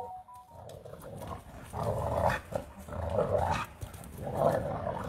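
Several dogs tussle and play in the dirt, giving close, rough growls and snarls in bursts that swell and fade, with occasional yips, scuffling and short whimpers between them.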